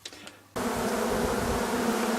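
Honey bees buzzing in a dense, steady drone that kicks in suddenly after a quiet start and then holds loud and close, cleaning honey-smeared wax cappings at the end of summer.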